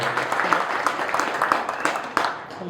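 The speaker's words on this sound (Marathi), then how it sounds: "आपण पुन्हा एकदा जोरदार टाळ्या वाजवून त्यांचं या ठिकाणी स्वागत करूया।" An audience at a lecture-series event applauds to welcome a guest, a dense, steady patter of many hands clapping at moderate distance, with a few sharper claps standing out.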